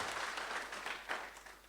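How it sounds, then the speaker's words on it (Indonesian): A church congregation claps and applauds during a Good Friday service, a soft, fairly distant wash of clapping with no talking over it. "berikan tepuk tangan yang meriah buat Tuhan Yesus."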